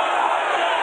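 A mostly maskless crowd at a Georgia rally for two Republican senators cheers in a loud, steady, broad roar that holds evenly through the brief moment.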